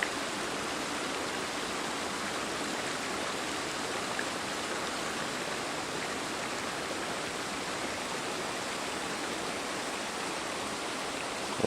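Spring water running toward swampy bogs in raw wildland, a steady broadband rush of flowing stream, even and continuous throughout with no voices.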